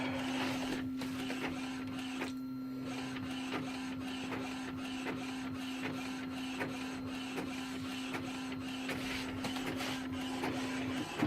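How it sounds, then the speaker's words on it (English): An Epson WF-2630 inkjet printer fitted with a continuous ink system copies an instruction booklet, giving a steady, faint mechanical whirring with a constant tonal hum and repeated small clicks of the print carriage throughout. "I'm copying one of the instruction booklets that he gave me just to see how it works"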